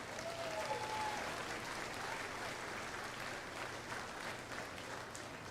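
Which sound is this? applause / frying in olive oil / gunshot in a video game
applause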